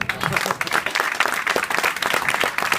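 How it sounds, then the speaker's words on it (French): Sustained, loud applause from an audience at an office inauguration in Lyon, with dense continuous clapping and some crowd noise mixed in. "Je vous demande de les applaudir."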